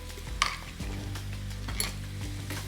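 Mayonnaise being folded into sizzling chopped pork sisig, a steady close hiss of frying under soft scraping and stirring strokes of a utensil against the pan, with a couple of sharper clinks.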